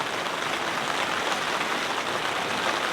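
Heavy rain drums steadily on a big tent during a car camping trip, a dense, continuous hiss of drops close overhead with no pauses and no voices.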